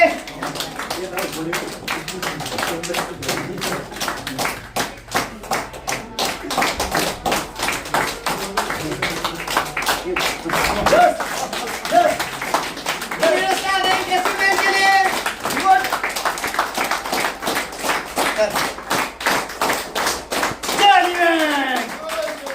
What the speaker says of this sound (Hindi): जोरदार ताली निकालिए।